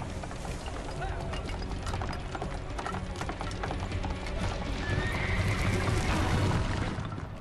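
A horse neighs in the PC version of the Prince of Persia video game, whinnying amid busy game sound effects and hoofbeat-like clatter, with a voice speaking over it throughout.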